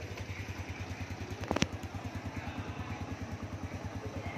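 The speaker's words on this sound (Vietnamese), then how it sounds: "nổ máy chơi lên cho cảm nhận cục máy" A 2009 Honda Wave Alpha motorcycle with low mileage idles steadily nearby, its small engine putting out an even, rapid putter with a brief mechanical clatter partway through.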